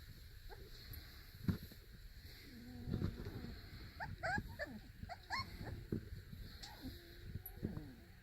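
Four-week-old puppies whimper and yip in a series of short high cries, some sliding up and down, close by and fairly soft, with shuffling and light thumps around them.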